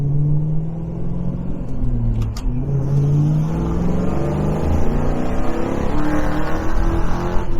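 A 1973 Chevrolet Camaro RS Z28 V8 revs and accelerates hard, a loud, rising and falling engine roar heard close up on the road, sustained throughout with no talking.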